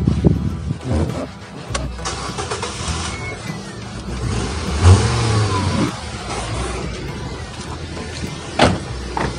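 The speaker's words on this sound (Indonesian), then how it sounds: "Mesinnya suaranya lebih halus daripada suaranya limo." A Nissan Almera engine turns over and settles into a low, steady idle, with clunks and rattles nearby and a slight rise in revs.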